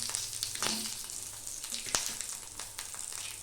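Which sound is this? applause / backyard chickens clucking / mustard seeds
mustard seeds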